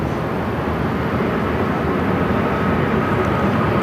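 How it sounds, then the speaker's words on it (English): A WestJet Boeing 737 MAX 8 arriving from Kelowna lands at Phoenix airport, its engines making a loud, steady, broad roar that holds without a break. "This WestJet flight is coming in from Kelowna. Kelowna. It's a 737 MAX 8."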